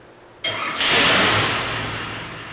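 A dirt modified race engine on a dyno fires up after a brief quiet moment, catching with a sharp jump to a loud, close roar that holds, then settles slightly while still running strong.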